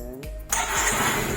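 A Mio Soul i 115 scooter engine cranks briefly, then catches and settles into a steady, close idle that continues to the end.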